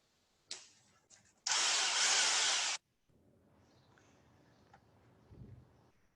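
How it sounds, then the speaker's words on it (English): Electric impact wrench loosening a car's lug nuts, one loud sustained burst of rapid hammering lasting just over a second, preceded by a few small clicks and followed by quiet handling noises. "I'm using a electric impact."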